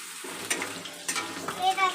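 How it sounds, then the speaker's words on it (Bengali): Potatoes frying in a pan while being stirred, with a soft steady sizzle and a few scraping stir strokes, close and moderately loud, no speech. "আলুটাকেও নাড়াচাড়া দিয়ে ভেজে নেব।"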